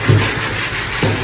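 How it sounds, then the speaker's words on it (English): Steady abrasive sanding against an oak cabinet surface, with two heavier scraping strokes at the start and end and continuous gritty friction between them. "we'd normally sand this surface and then move into this step"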